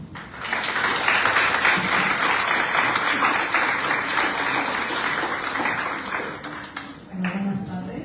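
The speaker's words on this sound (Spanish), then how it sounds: "le pedimos que le realicemos un fuerte aplauso" Sustained, dense audience applause from a conference crowd at a talk on hospital psychoanalytic clinical practice, rising quickly and holding steady before tapering off near the end.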